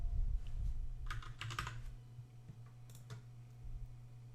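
Typing on a computer keyboard, a quick run of clicking keystrokes in bursts, close and clear over a low steady hum, with no speech.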